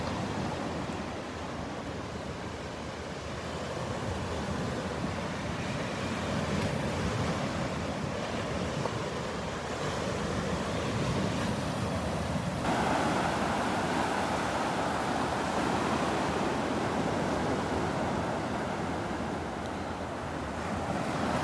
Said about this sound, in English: I love listening to these waves.